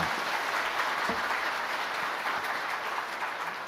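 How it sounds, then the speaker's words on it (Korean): Church congregation applauding after a hymn at a Korean worship service: dense, even clapping that fills the room, steady and moderately loud, with no speech over it. "박수 한번 합시다"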